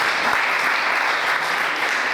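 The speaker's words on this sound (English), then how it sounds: "Please give me a round of applause." An audience at a cultural symposium in Mangu claps in a thick, continuous burst of applause, loud and even from start to finish with no speech over it.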